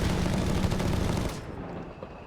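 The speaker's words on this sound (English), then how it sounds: "There you go, artillery fire here." Artillery and gunfire in the Company of Heroes 3 strategy game, a dense loud burst of rapid firing and explosions that cuts off into a quieter rumble after a second and a half.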